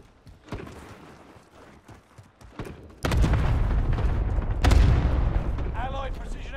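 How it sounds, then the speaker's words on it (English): Cluster strike explosions in the Call of Duty Warzone video game boom out loudly from about the midpoint, a dense run of blasts and rumbling impacts layered over earlier scattered gunfire and battle noise. "Allied cluster strike arriving."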